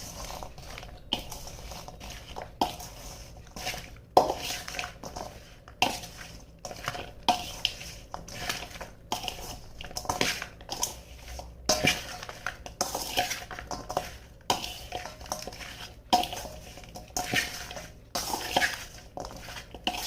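Spoon clinks and scrapes against a bowl or pot as chicken pickle is mixed with salt and lemon juice, steady repeated metallic taps and stirring throughout, close and moderately loud with no talking.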